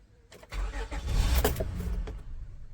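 A 2006 Honda car engine cranks and catches after a jump start, turning over briefly before settling into a close, rough idle that continues to the end.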